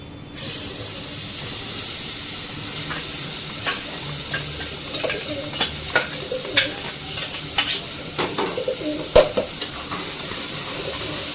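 Chicken gravy tadka frying in a pan as masala is added, a steady sizzle broken by sharper spits and pops that grow more frequent toward the end.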